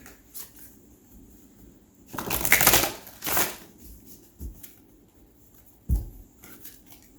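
Angel cards are shuffled and drawn, with a couple of brisk riffling bursts in the middle and lighter taps and slides of cards before and after, close and clear, with no talking.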